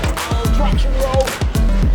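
A budget RC car with a Hobbywing Max10 setup drifts across hard pavement, its wheels scrubbing and thumping in quick repeated bursts, loud and close, with a voice talking over it.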